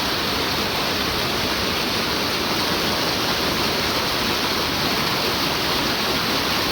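Loud, constant rushing of a fast-flowing river swollen by heavy rain fills the scene, a dense unbroken roar close by with no voices.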